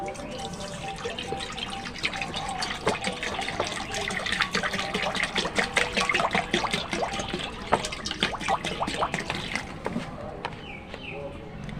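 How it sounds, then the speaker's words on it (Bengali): Water pours into a wok set on a lit stove in a home kitchen, a steady splashing and trickling stream that runs continuously for several seconds at close range. "কড়াইতে দিয়ে দিচ্ছি জল"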